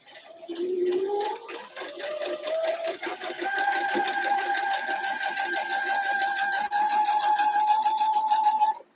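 A home sewing machine runs steadily while chain piecing quilt block pieces, its rapid mechanical whir rising in pitch and then holding a continuous drone for several seconds before stopping.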